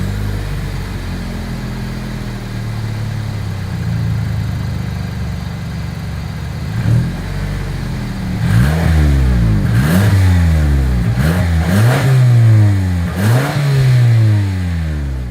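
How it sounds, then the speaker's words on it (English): A 2024 Toyota Camry SE with a single exhaust ending in dual chrome tips idles steadily, then gets several sharp revs in quick succession, each rising and falling, loud and close with no talking. "As always, here is that exhaust clip"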